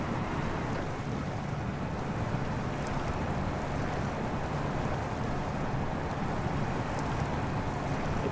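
A Tatra truck in the SnowRunner video game plunges into a river, giving a steady, dense wash of churning water and low rumble that stays constant and fairly loud throughout, with no talking.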